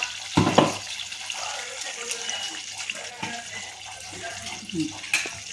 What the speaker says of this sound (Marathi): अजून थोडंसं मी ह्यामध्ये पाणी पण ॲड करणार आहे.